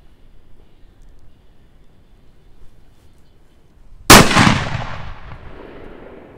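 A Bulldog 18-gram firecracker set off inside a tube goes off in a single sharp, loud blast after several seconds of near-quiet, then rings and decays into a fading rumble.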